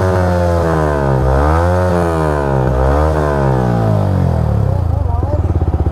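Yamaha R15 motorcycle with a modified exhaust, loud and close, revving up and down in sweeping waves before settling into a pulsing idle at the end.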